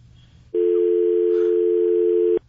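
A loud, steady telephone dial tone cuts in abruptly after a dropped radio call-in, holding one unbroken pitch for about two seconds before stopping sharply.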